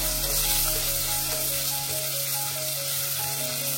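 Garlic sizzles and fries in a pan for coriander bhaji, a continuous loud crackling hiss that never lets up, with a faint stir now and then and no talking.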